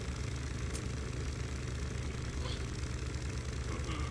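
A steady, loud boat engine drone in a video game, with a low rumbling hum, running continuously without change in pitch.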